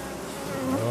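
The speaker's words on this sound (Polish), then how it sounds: "Jak Państwo widzicie, pszczół jest dość dużo." A dense, close hum of many honey bees buzzing together around a hive frame during honey harvest, swelling slightly louder toward the end.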